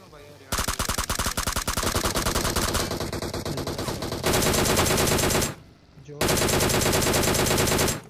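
Rapid automatic gunfire from a BGMI match, loud, dense bursts of shots with brief pauses between them, ending in a sustained volley after a short gap.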